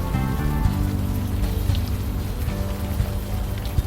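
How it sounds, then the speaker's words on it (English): Steady rain in the video game Unavowed, a dense constant patter with a low droning rumble beneath it, with no voices. "Still raining."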